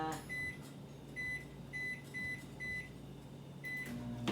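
A microwave oven hums steadily in a home kitchen during holiday cooking prep, with a series of short electronic beeps repeating over the low drone and a brief clunk near the end; no one speaks.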